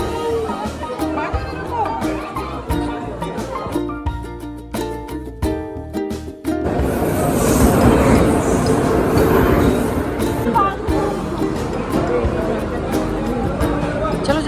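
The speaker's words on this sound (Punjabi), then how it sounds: "ਇਹ ਆ ਗਈ ਟ੍ਰੇਨ" A train rolls in with a loud, rumbling roar that swells partway through, while people chatter nearby.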